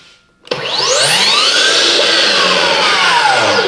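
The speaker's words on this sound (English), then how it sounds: "You guys can hear the motor wind up." A Makita GSL02 40V cordless 8.5-inch miter saw motor spins up abruptly after a brief quiet moment, its rising whine climbing quickly and then holding as a loud, steady, close-up drone.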